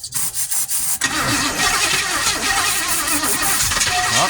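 A 1970 Chevelle small-block V8, once a Florida flood car, cranks in short bursts and then catches, running rough and loud with a steady engine roar and no talking.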